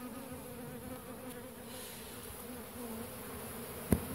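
Honeybees at a hive in an apiary buzzing steadily as they fan the recall call at the entrance, a dense continuous drone close by with no talking.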